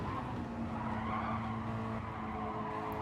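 Race car tyres squeal and scrub through a corner at a Mazda Challenge round at Kyoto Driving Park, a steady strained howl blended with engine drone, heard at a moderate distance without a break.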